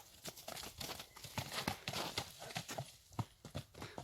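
A restless horse used for Alaman ulak stamps and shifts its hooves in place, making faint, irregular clip-clops close by with soft rustling between the steps.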